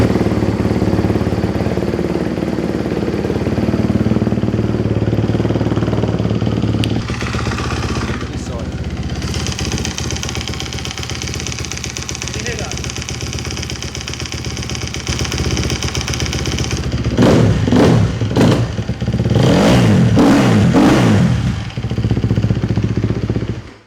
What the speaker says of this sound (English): we're going to fire up the 250 now, and we'll see if you can pick up on the mic the knocky sort of engine